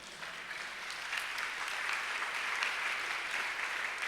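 A church congregation bursts into steady, sustained applause that fills the space evenly and continues without a break throughout, with no distinct voices rising above the clapping.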